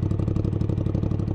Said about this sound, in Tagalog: Naririnig niyo yung tunog ng tambutso?